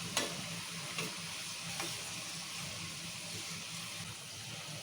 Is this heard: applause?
no